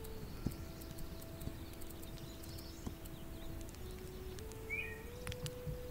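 Horse hooves clip-clop steadily across a game world in This Land Is My Land. The footsteps sound soft and muffled beneath a constant ambient hum and sustained tones, with a brief bird-like chirp near the end.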